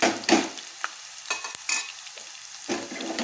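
Puffed rice frying with turmeric in a pan, giving a loud close sizzle with scraping stirs and occasional clinks, steady throughout and with no voices.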